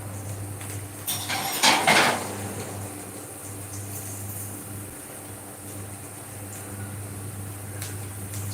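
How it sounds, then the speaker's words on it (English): Onions frying in a pot are stirred, with a brief scraping clatter of the utensil against the metal, then a quiet steady sizzle under a constant low hum. "So now stir the onion"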